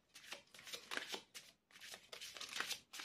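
A deck of tarot cards being cut and shuffled in bursts of riffling, fluttering card noise with short pauses between, close and fairly quiet.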